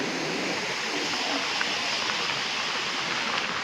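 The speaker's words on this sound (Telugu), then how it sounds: "వాటర్ చూడండి ఎంత ప్రెషర్తో వస్తున్నాయి" Water gushes under high pressure from a reservoir outlet into a waterfall, a loud, dense, continuous roar of rushing water that holds steady throughout with no voices.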